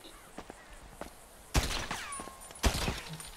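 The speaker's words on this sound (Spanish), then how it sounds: "Podéis oír los tiros del fusil que son muy muy buenos." Rifle fire at a car in the GTA V video game, with two sharp, loud bursts, each followed by a ringing, glassy shatter that fades away, after some quieter thuds.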